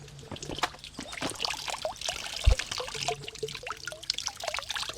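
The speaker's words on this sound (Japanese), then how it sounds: "この水の音もいいですね。" Water trickles and splashes steadily outdoors, with birds chirping in the background and no talk.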